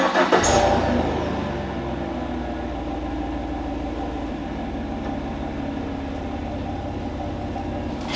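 A pickup truck reverses up to a boat trailer, its mid-range engine running steadily with a brief louder rev at the start, then a continuous close rumble.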